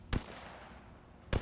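Two sharp, separate gunshots in Apex Legends, about a second apart, punchy and fairly close over a quiet background, with no talking.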